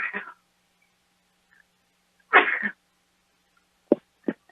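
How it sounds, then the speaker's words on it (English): A baseball broadcaster sneezes twice on air, each one a sharp, loud burst separated by silence, followed by two quick short coughs or snorts close to the microphone. "I rarely have sneezed on air."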